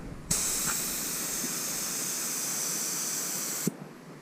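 A steady, loud hiss of a spray gun blasting car primer for about three seconds, starting and stopping abruptly, with no voices.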